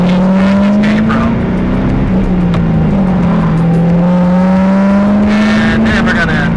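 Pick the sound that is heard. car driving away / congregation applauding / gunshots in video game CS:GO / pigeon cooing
car driving away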